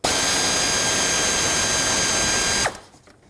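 A power tool whirs in one steady, loud, high-pitched burst for about two and a half seconds while taking out a 10 mm bolt from the A/C condenser bracket on a 2003-2008 Subaru Forester, then cuts off and spins down.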